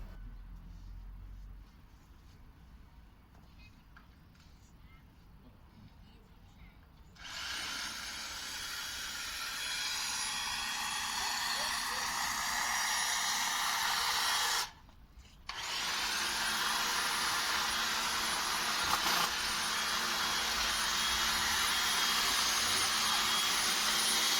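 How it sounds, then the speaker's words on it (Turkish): Electric power trimmer cutting through bushes in a home garden, a steady loud motor whine starting partway in after a quieter stretch, with one brief cutoff before it resumes, sped up. "Burada e, önceki makinelerle, makineyle çalları kesiyorum."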